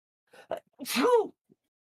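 A single sharp sneeze, preceded by a couple of quick intakes of breath, then silence.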